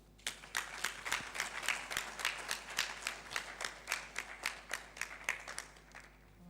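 Audience at a launch ceremony applauding a chief guest, a steady round of clapping from a moderate crowd, fairly close and without talk over it.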